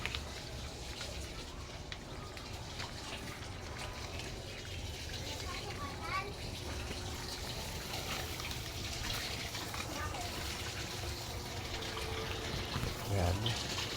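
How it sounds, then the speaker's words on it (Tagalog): Water gushing and trickling steadily through a freshly cleared, previously clogged drain, a continuous faint wash of flow with voices talking over it. "para magtuloy-tuloy ang agos ng tubig."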